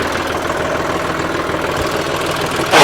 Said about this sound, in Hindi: ये मैंने कर लिया ट्रैक्टर 1600 आरपीएम पे